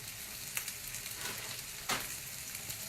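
Cabbage sautéing in a hot pan for a vegan Bengali-style lunch, giving a steady, moderately quiet sizzle with brief louder bursts as it is stirred, with no voices.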